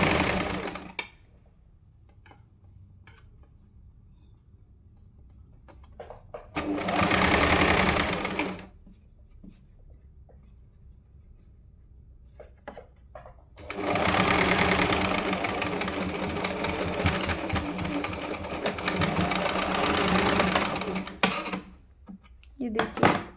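A sewing machine stitches a strip onto a blouse in two bursts, a short run and then a longer, louder steady whir, separated by quiet stretches with faint handling clicks.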